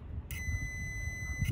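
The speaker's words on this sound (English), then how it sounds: "You hear that little beep." A single high-pitched continuity beep from a multimeter, checking an engine ground, sounds steadily for about a second, clean and continuous, over a quiet low background hum.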